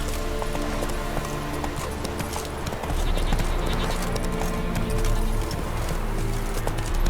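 Roach, a horse in The Witcher 3, clip-clops in a steady hoof rhythm, close and clear over a dense game ambience, with a faint snort or whinny.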